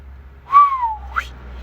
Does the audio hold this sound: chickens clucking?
no